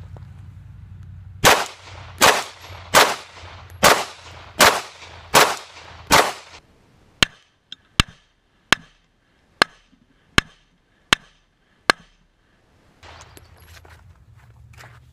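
Seven heavy 9mm gunshots strike homemade body armor outdoors in a steady one-per-second rhythm, followed by a run of sharper, thinner cracks at the same pace, each loud and alone against faint background hiss.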